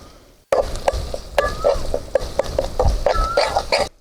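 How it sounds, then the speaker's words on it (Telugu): Spoon stirring mutton paya masala with mint, coriander, turmeric and ginger paste in a pot, a steady sizzle broken by repeated scraping strokes close by, with no voices. "మాడిపోకుండా కలుపుకోవాలి."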